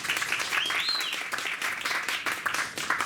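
Brief applause from an audience at a comics festival forum welcoming panelists, moderately loud, uneven clapping filling the short stretch.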